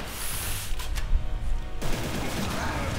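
Bursts of gunfire from the video game Inversion, a rapid fusillade of shots and booms in the first half, then a sharp shift to a denser, crackling barrage.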